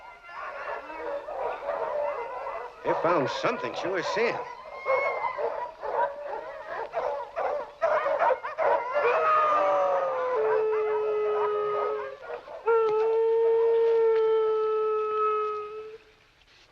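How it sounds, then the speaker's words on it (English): Several dogs howling, whining and barking in a night scene from the 1948 film Moonrise, with long rising howls and yips layered together over someone speaking briefly. "Don't know what's bellyaching those dogs."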